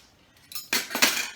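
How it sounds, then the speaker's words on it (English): A couple of metal forks and a butter knife are picked up and clink together, making a quick burst of several bright, close metallic chinks after a short quiet lead-in. "Actually gonna get a couple forks. and a knife."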